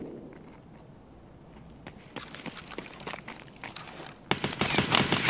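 Full-auto gunfire rattles in Escape from Tarkov on the dark Interchange map, rapid bursts swelling loud near the end after quieter footsteps and movement.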